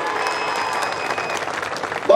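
A crowd at a political rally in Telangana claps in a dense, steady burst of applause, with a louder swell right at the end; no one speaks over it.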